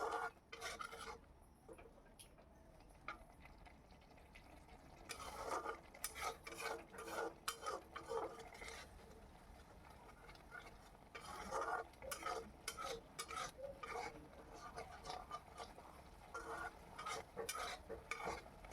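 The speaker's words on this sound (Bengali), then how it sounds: "ভালো করে মশলাটিকে কষিয়ে নিতে হবে।" Spice paste for dhiras do pyaja (okra with onions) being stirred and fried in a pan with a little water added, with repeated scraping strokes of a spatula against the pan and a soft sizzle between bursts.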